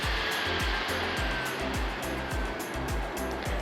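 A JISULIFE Neck Fan Pro3 runs on its high setting and gives a loud, steady whirring rush close to the microphone. Faint rhythmic low thumps repeat under the airflow throughout.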